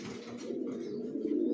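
Racing pigeon chicks coo in a steady, close, soft warble that runs throughout, with no talk.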